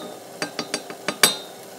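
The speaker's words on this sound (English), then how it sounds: "now you're going to take your wooden spoon and just kind of stir it in there" Six quick, distinct knocks and clinks come from a wooden spoon stirring boiling sugar syrup in a pot for rock candy, close and fairly loud, with the last tap the sharpest.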